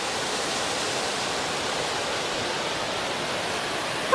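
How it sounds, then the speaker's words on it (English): Small waterfalls tumbling on a mountain stretch of the Pacific Crest Trail among snow and dirt, a steady broadband rush of falling water held close and even throughout. "Cute little waterfalls."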